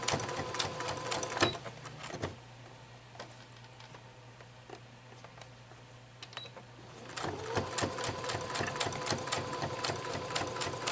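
A sewing machine stitches back and forth over the elastic of a fabric face mask, rapid ticking bursts at first, then a pause with a low hum, then another fast stitching run.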